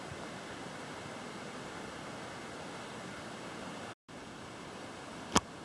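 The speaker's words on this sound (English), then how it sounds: "I'm not quite sure if you guys can hear the water flowing." Creek water flows in the Mooney Mooney River along the Great North Walk in Brisbane Water National Park, a steady broadband hiss with no talk, cut by a brief dropout and then a short sharp click.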